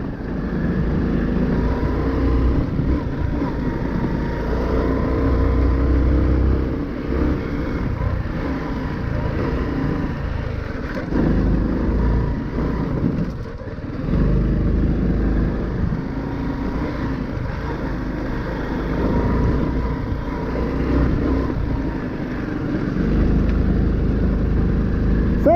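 A Honda Cross Cub 110 motorcycle engine hums steadily while riding over rutted ground outdoors, with continuous wind and road noise and a brief dip partway through.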